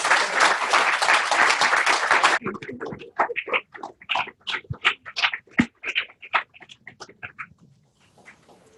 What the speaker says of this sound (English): So can I get a big round of applause for Talita Holzer, please?